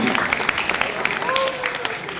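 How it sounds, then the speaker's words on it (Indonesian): An audience claps briefly for class 11 TKRB at a vocational school final-project handover ceremony, dense applause running under a voice that speaks over it. "Kasih tepuk tangan untuk kelas 11 TKRB."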